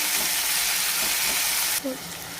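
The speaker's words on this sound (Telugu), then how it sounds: "ఆయిల్ హీట్ అయినాక మనం ఈ చాప్ చేసిన ఆనియన్స్ యాడ్ చేసుకోవాలి ఈ ఆనియన్స్ ఆయిల్లో మంచిగా ఫ్రై కావాలండి" Chopped onions hitting hot oil for egg curry, a loud dense sizzle right up close that drops slightly near the end as a brief stir sounds.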